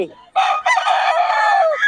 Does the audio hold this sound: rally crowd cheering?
no